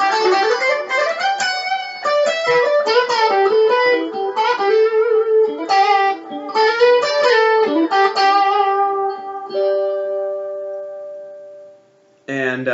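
Guitar scale run played from a G Ionian shape in six-note groupings, a steady flowing stream of clear picked notes with a lightly effected tone, easing into sustained ringing notes near the end.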